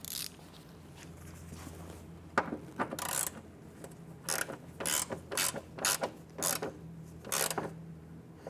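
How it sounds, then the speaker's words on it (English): Ratchet snugging a hood latch nut on a 1997-2006 Jeep Wrangler, a series of quick clicking bursts in short strokes with pauses between them, close and fairly quiet, no talking. "then I'll grab my ratchet and snug that down"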